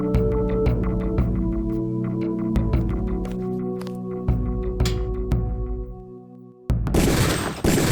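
Gunshots at a shooting range in the Deus Ex video game, a series of sharp, evenly spaced reports ringing over a steady tonal background, followed by a louder noisy burst at the end.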